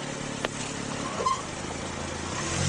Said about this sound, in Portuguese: É o motor do carro do Sr. Conde que está funcionando.